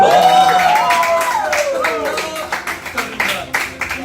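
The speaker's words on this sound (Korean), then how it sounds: "다 같이 박수 한번 칠까요?" An audience at a singer's 50th-anniversary show claps along, scattered hand claps building into a rhythmic pattern near the end, with a voice speaking over the start.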